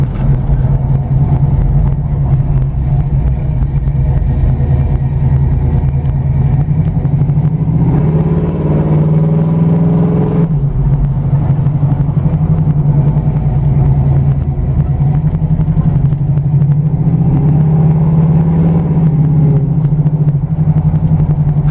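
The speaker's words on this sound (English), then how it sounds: "you can see it accelerates really well, like you would expect for a 400 in a car this size." A 1972 Pontiac Lemans GT with a 400 V8 engine, loud and close, accelerating through several gear changes with a deep, rising and falling engine roar throughout.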